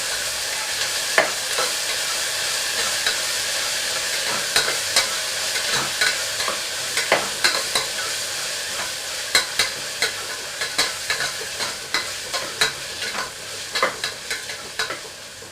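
Ginger-garlic paste fries in a pan for a drumstick and tomato curry. A constant hissing sizzle is broken by frequent sharp scrapes and taps of a spatula, which grow more regular toward the end.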